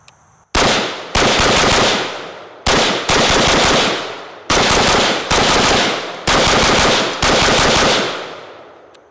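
An AR rifle with a smooth, well-worn action fires a full magazine as five loud, close bursts of rapid automatic fire, each ringing out briefly before the next string begins.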